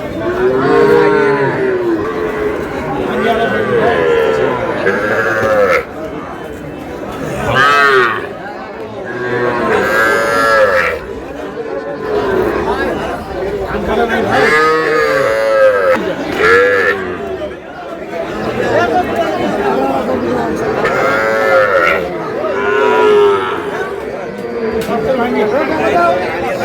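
Sahiwal bulls and bull calves moo repeatedly at a livestock market, loud and close, their long lowing calls overlapping amid the chatter of a busy crowd.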